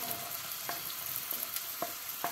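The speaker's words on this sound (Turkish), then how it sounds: "Bir büyük boy soğanımızı doğramıştık. Onu da yağımızın içerisine alalım." A large chopped onion fries in heated olive oil in a pan, a steady soft sizzle with a few light taps of a wooden spoon stirring, close and alone with no talking.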